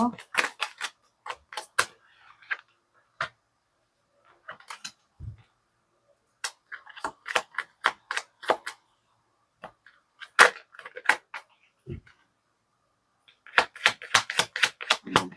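Saju oracle tarot cards are shuffled in quick crisp bursts of snapping and riffling, with pauses between them, close to the listener and on their own without talk.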